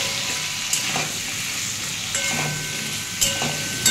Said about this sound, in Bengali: সামান্য একটু নুন আর একটু হলুদ দিয়ে আমি আলু টমেটোটা ভেজে নেব